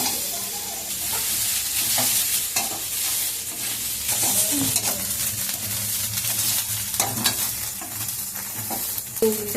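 Rice and moong dal are stir-fried in a pan, with a dense dry sizzle and repeated spatula scrapes and knocks at irregular intervals, close and fairly loud throughout.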